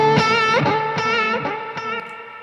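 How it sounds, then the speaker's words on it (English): Electric guitar notes and chords drenched in heavy reverb, a few distinct plucked attacks with long shimmering tails that ring and overlap, played loud and close with no talking. "maybe more reverb."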